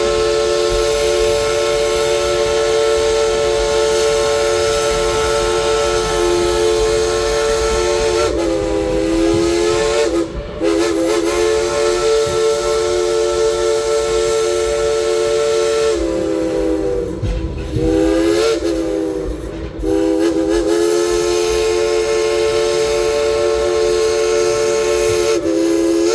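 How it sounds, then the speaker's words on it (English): Steam whistle on a tourist train in the mountains of East Tennessee, with long loud sustained blasts over the running train and rumbling rail cars, with several pauses between blows and no talking. "let's get that engineer Casey to blow the whistle"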